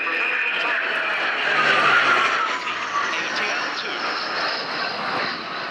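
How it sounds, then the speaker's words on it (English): A Breguet Atlantique 2 French Navy maritime patrol aircraft flies a display at RIAT 2025, its engines giving a loud, steady roar that swells slightly and holds throughout the pass. "a tremendous display from an aircraft we haven't seen in the flying programme at the ATL2"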